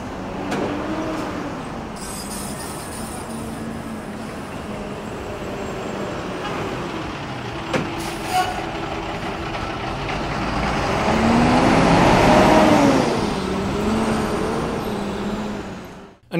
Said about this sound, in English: used the MICS2 mic to record some traffic sounds in front of the B&H Superstore